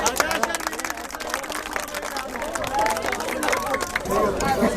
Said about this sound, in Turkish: Alkış yapanlar.